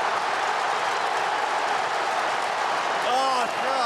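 Essendon versus Hawthorn AFL crowd at Marvel Stadium roaring after a goal, a loud sustained wash of cheering and applause with a whistle-like tone near the end.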